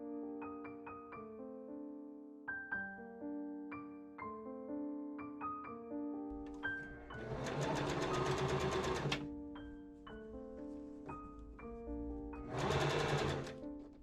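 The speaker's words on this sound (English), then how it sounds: "I machine sew that seam up." A sewing machine stitches a seam on a velvet dress, with short whirring runs broken by pauses and tonal motor hum, then two longer louder bursts of fast stitching, heard close with no speech.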